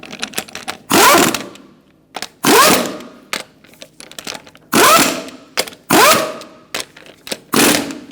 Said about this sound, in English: we're going to tighten up our lug nuts